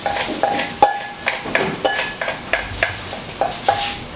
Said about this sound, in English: just cover the pan a little bit, and then you dump your eggs in